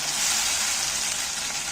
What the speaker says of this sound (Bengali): এইটাকে ভালো করে কেন ভাজতে হবে তাহলে কাঁচা টমেটোমের গন্ধটা এর মধ্যে থেকে যায়